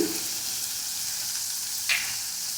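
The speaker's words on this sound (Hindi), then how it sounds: "चम्मच से चलाते रहना है।" Dal stirred with a spoon in a pan during cooking, a steady faint sizzle running throughout with one brief scrape of the spoon near the end.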